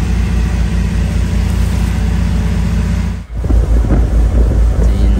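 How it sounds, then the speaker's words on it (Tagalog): Heavy waves and strong wind batter a fuso boat on the sea crossing to Jolo, Sulu: loud, continuous roaring buffet with a brief dip midway, then churning, choppy water and engine drone close by. "malakas na guys yung alon."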